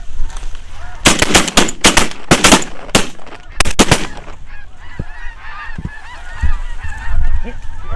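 A flock of snow geese and specklebellies honking during a goose hunt, a dense chorus of calls nearby and farther off, broken by several loud bursts of shotgun fire early on, with the honking carrying on afterward.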